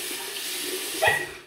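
A bathroom tap runs steadily into a sink during a wet shave, a constant hissing stream with a brief splash near the end.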